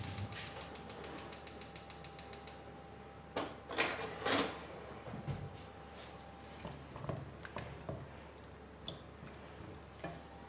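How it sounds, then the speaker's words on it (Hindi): A gas stove burner being lit under a pressure cooker: a fast run of faint ticking igniter clicks, then a few louder knocks and clunks of kitchen handling. "नीचे आग जला लेंगे।"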